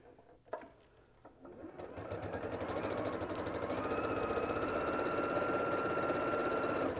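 A sewing machine stitches a pinned quilt block seam, starting with a few clicks, then speeding up into a steady rapid mechanical whir that runs on close and even to the end.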